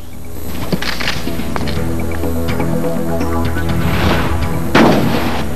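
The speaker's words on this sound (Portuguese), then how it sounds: "Quase no mesmo momento, outro tiro." A gunshot fired during a shooting in Itapetinga, Bahia, rings out loud and close over a dense, steady background, with a sharper blast near the end.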